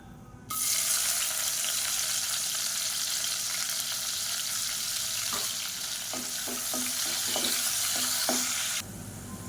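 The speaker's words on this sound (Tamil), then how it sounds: "இப்போ வெங்காயம் நல்லா ப்ரௌனாக வதங்கிடுச்சு" Chopped large onions with a bay leaf sautéing in hot oil in a pan for egg pulao, a steady bright sizzle throughout, with a few soft scraping stirs of a spoon toward the end.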